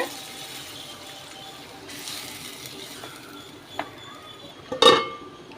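Half a tumbler of water splashes briefly into a pan of cooking chicken for a Nallampatti chicken fry amid quiet kitchen sounds, followed near the end by a sharp metallic clink.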